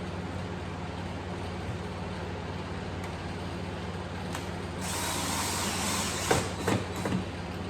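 A power drill drives a 1.25-inch screw into a wooden wrap-around fireplace mantel, a short whirring burst of a few seconds that rises over a steady low background hum.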